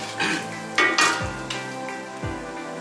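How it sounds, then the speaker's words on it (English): Ghee melting and sizzling in a wok for chicken biryani while being stirred, with a few sharp scraping strokes of the utensil over a steady close frying hiss. "stir it a little bit, melt down the ghee"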